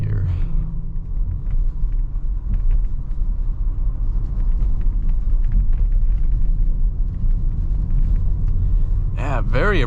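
A 2023 Audi RS 5 Sportback corners at speed, heard from inside as a steady low road rumble and engine drone, with a person talking over it near the end.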